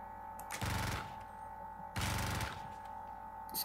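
Two short bursts of rapid gunfire while shooting zombies in the game Gunshine, each lasting about half a second and fairly loud, set over a steady tonal game soundtrack hum.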